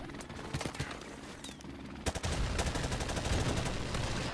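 Automatic gunfire in a first-person shooter game, rapid bursts of shots, a few scattered rounds and then a sustained loud rattling stream.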